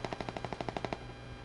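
Machine gun fire in a video game: a rapid, even burst of about a dozen sharp shots, fairly close and moderately loud, ending abruptly with no talk over it.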